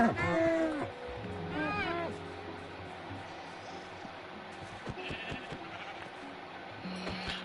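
Minecraft sheep bleat in a video game, two quick nasal bleats close together at the start, then quieter game ambience with a voice talking faintly underneath.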